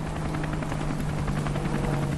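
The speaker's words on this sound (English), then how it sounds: "A low rhythmic thumping noise. Suddenly, a wide-bellied helicopter burst low from the clouds" A wide-bellied construction helicopter flies low overhead, its rotor beating out a steady rhythmic thumping over a constant engine roar, loud and continuous with no talk.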